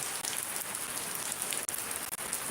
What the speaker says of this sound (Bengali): অনেক ভাল লাগতেছে বৃষ্টি হচ্ছে